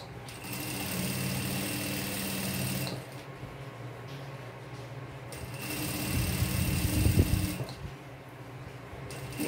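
Sewing machine running in bursts while stitching the seam around a bell sleeve, a steady mechanical whir for about three seconds, a pause, then a longer louder stretch of stitching with a near, rattling motor.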